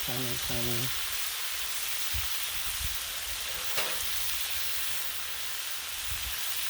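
Bacon frying on a griddle, a steady broadband sizzle running throughout, with a brief voice-like tonal sound near the start and a short crackle partway through.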